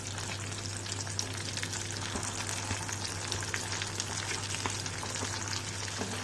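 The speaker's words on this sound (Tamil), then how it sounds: "இன்னொரு சைடு இப்போ ஃப்ரை ஆகுது" Flying fish (kola meen) fry steadily in oil in a pan, giving a dense, continuous sizzle at an even level with scattered small crackles and no talk.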